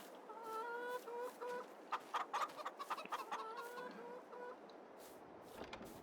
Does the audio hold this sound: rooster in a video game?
yes